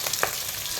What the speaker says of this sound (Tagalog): Prito na tayo ng tuyo. Crispihin lang natin para masarap siya.